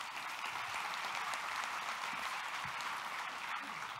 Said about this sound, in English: Can we give Stigler a good hand clap tonight?